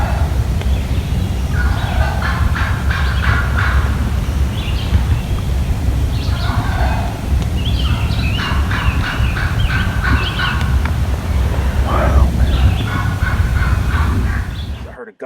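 Wild turkeys gobble and yelp repeatedly in West Virginia in spring, close and loud, with overlapping calls rising over a constant outdoor background.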